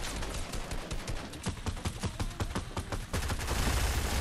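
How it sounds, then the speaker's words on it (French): Distant gunfire in Fortnite, a rapid run of sharp cracks and bursts at a fairly low level, thickening into a denser rumble toward the end. "Ça tire au loin"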